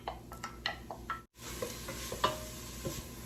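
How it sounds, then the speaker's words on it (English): Small onion pieces sautéing in about a tablespoon of olive oil in a pan for homemade chili, with soft sizzle under intermittent spoon scrapes and taps, close and quiet, briefly cutting out midway. "Go ahead and get them sauteing in my pan."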